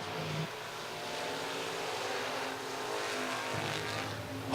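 IMCA stock cars race during a heat at RPM Speedway's Fall Nationals, a steady, continuous roar of several engines running side by side around the track, with a sharp louder burst right at the end.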